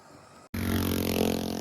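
Motorcycles rev past on a street in Mompox, Colombia, one carrying three riders; after a brief hush, a loud, close engine roar with a steady rumbling drone swells in and holds.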